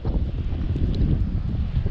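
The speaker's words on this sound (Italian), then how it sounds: "alzato il vento fortissimo" Very strong mountain wind buffets the microphone in a continuous low roar, rumbling and gusting throughout with no voices.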